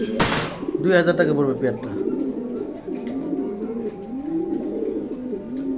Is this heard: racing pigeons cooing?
yes